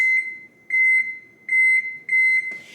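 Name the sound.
kitchen timer beeping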